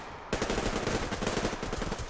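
Gunfire in a shooter video game, with a sniper firing from a high position: a sudden loud burst followed by rapid, continuous shots, close and dense, with no talk.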